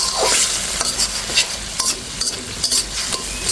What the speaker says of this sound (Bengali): মশলাটা একটু নেড়ে ছেড়ে দিচ্ছি।